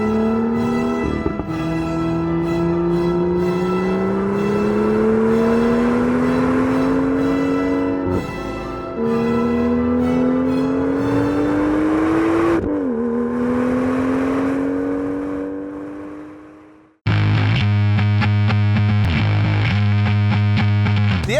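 A 2016 BMW M2 with 365 horsepower revs hard on a race track, its engine note climbing steadily through the gears with brief dips at shifts, loud and close, ending in a raw, gritty drone.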